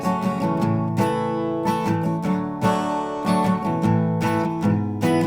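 Acoustic guitar strumming the steady chord pattern of a song, with bright strokes and changing chords, played close and alone without any voices.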